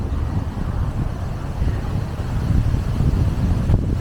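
Steady wind at Roddlesworth Reservoirs in Lancashire buffets the microphone with a low, continuous roar that swells slightly toward the end; no voices.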